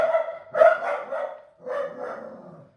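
Dogs bark in two close, loud bursts, each a rapid cluster of overlapping woofs separated by a short pause, with no talking over them.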